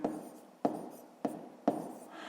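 A pen or chalk writing out a math solution in four quick sharp strokes, each a crisp tap followed by a short scratchy rub, close and quiet with no speech.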